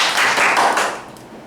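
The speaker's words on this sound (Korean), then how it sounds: "박수 좀 부탁드립니다" An audience at a sales talk about internet and TV plans gives a very brief, close round of clapping that fades within a second and a half.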